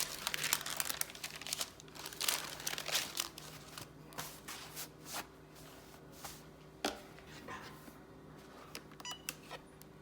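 Paper crinkling during a baby onesie craft project, a string of sharp, close crackles and rustles in irregular bursts, busiest early and thinning out later, with no talking.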